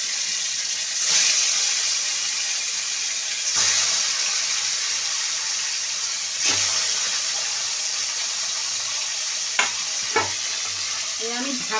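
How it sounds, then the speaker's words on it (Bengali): Rithe fish fry in hot oil in a kadai, giving a steady loud sizzle broken by recurring bursts of spluttering and a few sharp pops near the end. "এই মাছগুলো আমি দিচ্ছি, খুব ফুটবে।"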